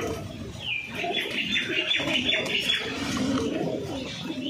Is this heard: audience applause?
no